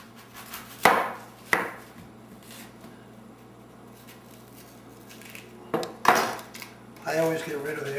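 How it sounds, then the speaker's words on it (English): A knife chops onions on a board in a few sharp, separate thuds and clatters spaced apart, with quiet kitchen handling noise in between. "We're going to chop up the onions."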